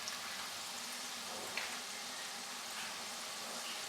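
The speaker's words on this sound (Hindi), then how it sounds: "मीडियम टू लो हीट पे इनको फ्राई करेंगे" Chicken drumsticks frying in oil over medium-low heat, a soft, steady sizzle with fine crackling spits, quiet and unbroken, with no voices over it.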